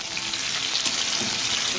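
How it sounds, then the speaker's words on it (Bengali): Potatoes fry with onions in a pan, giving a steady, close, dense sizzle that crackles evenly throughout with no talk. "বন্ধুরা আলুটা ভাজা হয়ে যাচ্ছে"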